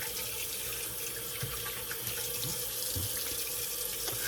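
A tap runs steadily into a sink as a razor is rinsed after a shave, a continuous close splashing stream with no talking.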